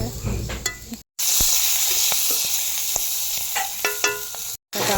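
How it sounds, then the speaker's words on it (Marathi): Cumin seeds crackle and sizzle in hot oil in a kadhai on a wood-fired stove, a bright continuous hiss with sharp pops, briefly cut by two short breaks. "जिरे टाकून देते."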